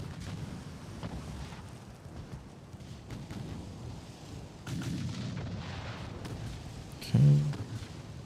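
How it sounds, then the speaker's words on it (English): Naval secondary guns on armored cruisers firing in the warship game Ultimate Admiral: Dreadnoughts, a steady low rumble of distant gunfire with a sharper boom near the end and a brief spoken word. "I guess our armored cruisers are pestering them with secondary."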